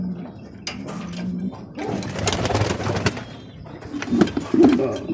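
Roller pigeon cock cooing in a breeding loft, a few soft throaty coos rising toward the end amid rustling and shuffling, close to the microphone with no talk.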